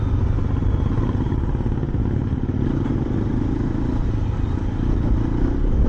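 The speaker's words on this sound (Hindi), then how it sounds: "वाह, एग्जॉस्ट बहुत प्यारा है" Hero XPulse 210 motorcycle exhaust while riding, a steady loud engine drone with road and wind noise running continuously throughout, no talking.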